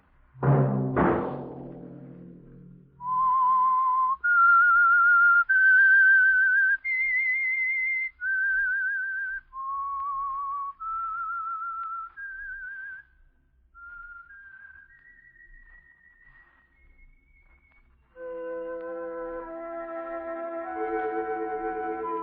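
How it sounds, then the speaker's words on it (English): Someone whistles a slow signal melody of clear, held notes on an old-time radio show, close and clean, stepping up and down in pitch before a brief musical chord takes over. "Let that whistle be your signal"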